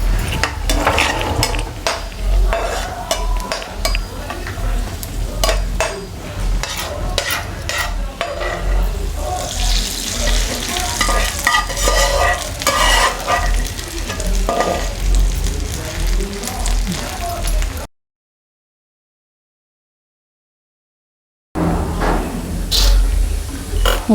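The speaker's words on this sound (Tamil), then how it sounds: "இப்போ வந்து முந்திரி வறுத்துக்கலாம்." Cashews roast in a pan with a steady, close sizzle while a utensil scrapes and clinks against the metal as they are stirred; a brief silent gap breaks the sound before the frying resumes.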